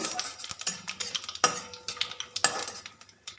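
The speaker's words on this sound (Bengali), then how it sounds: "এবার ফোড়নটাকে একটু ভেজে নেব" Bay leaf, two dried red chillies, whole cumin and black cumin crackle in hot oil, heard as a series of sharp pops and spatula scrapes against the pan over a faint sizzle.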